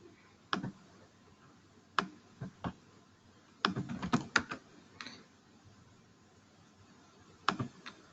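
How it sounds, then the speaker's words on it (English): Typing on a computer keyboard: scattered key clicks arrive singly and in a short dense burst around the middle, with a few more near the end, close and fairly quiet against a faint room background. "so I'm just typing some test"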